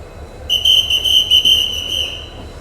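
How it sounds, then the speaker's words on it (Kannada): The Talaguppa Express pulling into the Mysuru Junction platform sounds a single high, shrill horn blast lasting over a second, loud and close above a low rumbling background, with no voices. "ನಮ್ಮ ಟ್ರೈನು ಪ್ಲ್ಯಾಟ್ಫಾರ್ಮ್ನ ಸೆಂಟಿಂಗ್ ಮಾಡ್ತಾ ಇದೆ. ಬಂದೇ ಬಿಡ್ತು ನಮ್ಮ ಟ್ರೈನ್."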